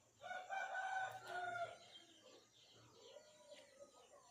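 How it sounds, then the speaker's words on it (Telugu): Roosters and hens at a chicken market selling fighting cocks, with a loud nearby rooster crowing followed by softer overlapping clucks and crows from birds around. "పందెం కోళ్ళు, చాలా కోళ్ళు ఉంటాయండి."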